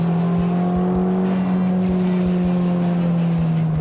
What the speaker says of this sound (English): here we are with the 306 brake horsepower Type R